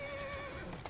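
A horse whinnies close by, drawing a carriage in Assassin's Creed Syndicate, a short, clear neigh with faint background noise.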